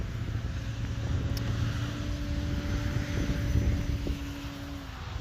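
An E-flite Ultimate 3D RC airplane takes off into the wind in the rain, its electric motor a steady, moderately distant drone with a faint rising tone over a low rumble.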